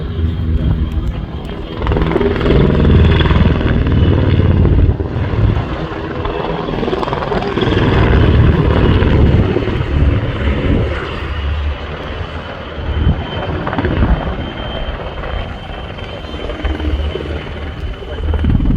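A pair of PZL W-3A Sokol helicopters in a flying display at an air show, performing low passes and rolling landings; loud, continuous rotor thump and turbine roar that swells and fades slightly, with a commentator's voice over the top.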